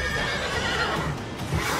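A horse whinnies in The Witcher 3 video game, a loud neigh over steady game ambience, with faint hoof clip-clop and no talking.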